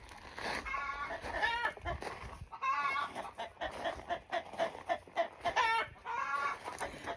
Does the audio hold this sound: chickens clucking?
yes